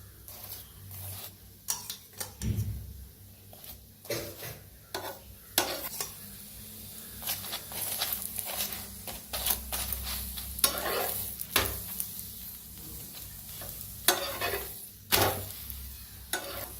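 A chapati frying on a hot griddle with oil, its sizzle running under repeated scraping and pressing strokes from a spatula, close and fairly busy throughout.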